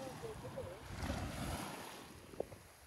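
Waves break and wash along a shore on the Arabian Sea near the Qatar–Saudi border while wind buffets the microphone, a fairly faint, steady rush with a brief sharp knock near the end.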